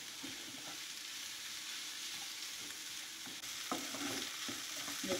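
Boneless chicken pieces sizzle and fry steadily in a hot pan, with occasional stirring scrapes toward the end and no talking.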